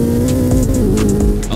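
Twin-turbo V8 exhaust of a McLaren 765LT, a steady loud droning rumble with no clear rev rise across the short stretch.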